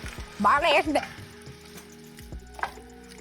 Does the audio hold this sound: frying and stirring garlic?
yes